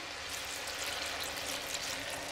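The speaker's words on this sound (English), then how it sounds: "And 8 cups of water." Eight cups of water pour steadily into a soup pot holding chopped tomatoes and cannellini beans, a continuous close splashing rush with no talking.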